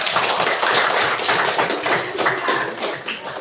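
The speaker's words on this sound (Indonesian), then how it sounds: "tepuk tangan untuk Sandi" Students in a school classroom clap for a classmate, a brief burst of close, loud group clapping with uneven, overlapping hand strikes.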